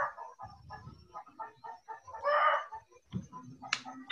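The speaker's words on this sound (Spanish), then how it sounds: "¿Hasta el gallito quiere estar ahí?" Rooster clucking nearby in a series of short throaty calls, with a louder squawk midway and a few softer clucks after, fairly quiet and with no talk.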